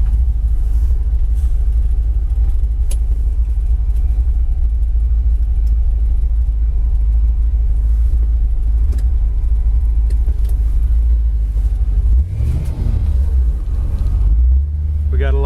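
A 1970 Ford Mustang Fastback resto mod runs with a loud, close, deep rumble, holding a steady idle before a brief rev near the end, on a winter day in Iowa.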